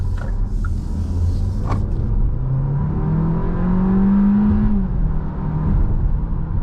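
A 2024 Kia Seltos engine revs up steadily in sport mode, its pitch climbing as it accelerates, loud and close with no talking.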